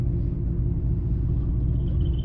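A loud, steady low engine rumble from a Mercedes-AMG GT R sports car idling nearby, deep and continuous.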